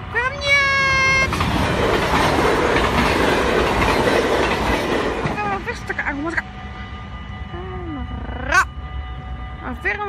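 A train rumbles past on the rails in Linne, loud and close, then fades as high metallic squeals and screeches ring out from the wheels.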